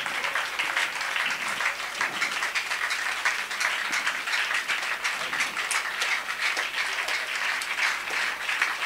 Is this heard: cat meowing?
no